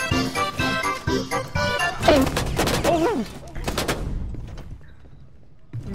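Video game gunfire crackles in rapid bursts, loud and close, with a jingling, tinkling edge, then tails off into quieter sporadic shots.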